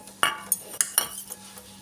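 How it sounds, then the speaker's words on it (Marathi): Metal idli steamer plates being greased with oil, heard as five or six sharp, close metallic clinks and taps spaced irregularly over a quiet background hum. "इडली पात्राला तेल लावते."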